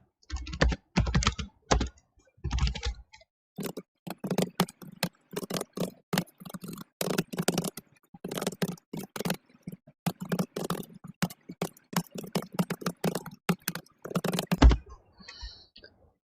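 Rapid bursts of clicking keystrokes on a computer keyboard as simple code is typed, close and fairly quiet, coming in irregular clusters with short pauses and no talking.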